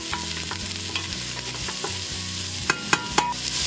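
Onion sizzles steadily in sesame oil in a pan, a loud continuous hiss broken by the scrape of stirring and a few sharp clinks near the end.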